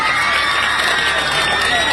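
An audience at a Bhojpuri dance show cheers and shouts loudly, a dense unbroken roar of crowd noise throughout with claps blended in, close and strong.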